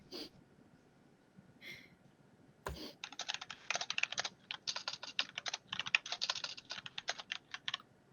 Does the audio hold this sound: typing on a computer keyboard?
yes